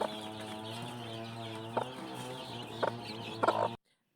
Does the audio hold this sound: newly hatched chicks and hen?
yes